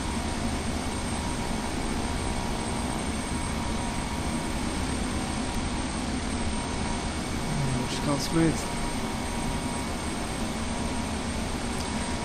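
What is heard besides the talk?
jet airliner engine sounds in Flight Simulator X video game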